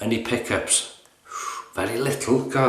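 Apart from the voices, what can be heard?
No distinct noise like a dog, phone or traffic.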